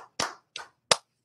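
Three sharp, separate hand claps, close and alone in an otherwise quiet moment of a baseball talk show, spaced roughly a third of a second apart.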